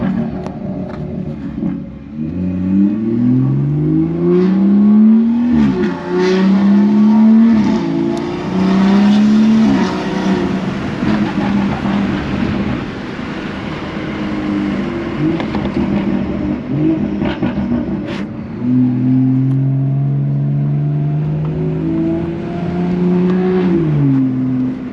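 A BMW F30 340i exhaust revs repeatedly, its deep, hollow tone rising and falling in several sustained pulls with short dips between them, loud and close throughout.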